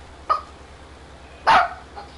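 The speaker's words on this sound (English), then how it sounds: "JoJo the Wonder Dog going nuts" A dog in a farming video game barks twice, a short bark followed by a louder, longer one, with a faint yip after, over a low steady game background hum.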